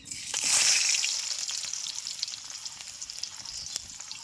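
Chopped onion sizzles in a hot pan for cooking noodles, a loud initial hiss that settles into a steady crackling fry.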